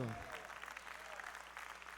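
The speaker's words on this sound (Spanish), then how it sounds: "Dele fuerte ese aplauso al Señor." Church congregation applauding the Lord during a Spanish-language sermon, a steady broadband clatter of many hands, fairly quiet, with a voice audible near the start.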